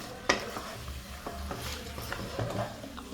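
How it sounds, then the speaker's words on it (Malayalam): Chicken chukka being stirred in a pan, with a sharp scrape at the start and then repeated spoon strokes over a steady low sizzle, close and moderately loud. "അപ്പോൾ നല്ല അടിപൊളി നമ്മൾ ഇളക്കിക്കൊണ്ടിരിക്കുകയാണ്."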